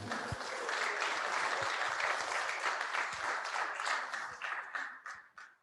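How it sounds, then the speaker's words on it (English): An audience at a confirmation service applauds the speakers in a sustained burst of clapping that fills the room, then thins out and fades toward the end. "You can applaud all our speakers."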